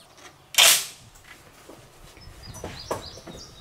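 A single close, sharp rifle shot from a Swiss K31 fired with a Shooter's World 4350 load, cracking loudly and then fading over half a second, followed by quieter outdoor sounds and faint bird chirps.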